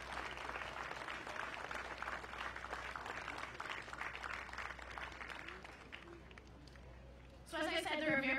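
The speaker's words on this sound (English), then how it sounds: "let's please give them all a round of applause" Crowd at a sand sculpting festival opening ceremony on Revere Beach claps in a steady, moderately loud burst that tapers off, then a voice begins speaking near the end.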